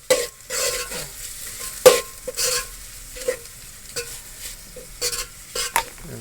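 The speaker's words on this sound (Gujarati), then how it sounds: "ખાલી શાક ખાવામાં મજા નહીં આવે એટલે મરચા તળી નાખીએ" Intermittent sizzling and stirring as chillies fry in a pan, with scraping strokes and bursts of crackle spaced irregularly, close by.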